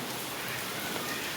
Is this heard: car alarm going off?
no